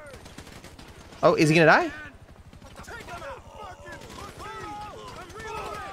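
Gunfire in GTA 5 as someone shoots at the player, a short loud burst of shots followed by quieter pops while a person talks over it.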